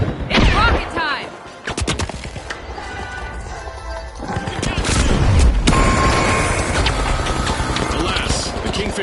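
Rocket launcher fire and explosions in the game The Finals, with heavy booming blasts, rumbling impacts and clattering debris in quick succession, loud and chaotic, with a voice speaking over parts of the action.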